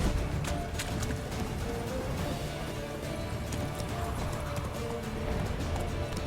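Roach, the horse in The Witcher 3 video game, gallops in a steady, quick clip-clop of hooves that stays loud and close throughout, with no speech.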